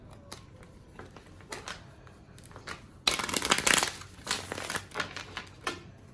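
Tarot cards are shuffled nearby: quiet scattered flicks, then a loud riffling burst followed by several shorter shuffling rustles.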